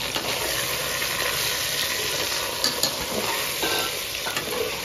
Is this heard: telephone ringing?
no